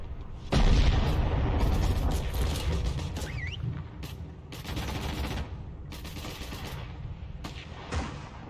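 Rifle fire in a video game booms out in a loud burst of shots followed by several further sharp reports and mechanical clatter, with echoing tails between the blasts.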